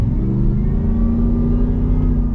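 A Shelby F-150 Off-Road pickup's engine revs with a deep, steady, rumbling growl, loud and close, holding a sustained throaty note.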